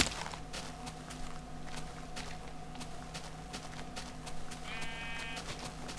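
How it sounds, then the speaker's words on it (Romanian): Blocky sheep in the video game Minecraft bleat over a steady low background hum, with repeated soft clicking steps through the game world and one brief tonal chirp near the end. "Uite, oi la greu."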